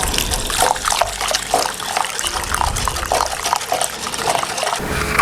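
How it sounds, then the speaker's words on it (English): Hot water running from a faucet or kettle into a bowl of lemon gelatin powder, a continuous splashing flow with soft clinks, close and fairly loud, no talking. "we're going to put that in a bowl and combine that with a cup of hot water"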